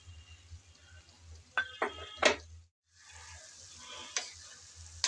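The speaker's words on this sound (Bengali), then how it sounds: "আলু আর গাজর দেওয়ার পর নেড়েচেড়ে এখন ভালোভাবে মিশিয়ে নেব" Fried potato and carrot pieces are stirred into softened dheki fern greens in a pan, giving a steady sizzle broken by a few sharp scrapes and clinks of the spatula, then a short pause before the frying resumes.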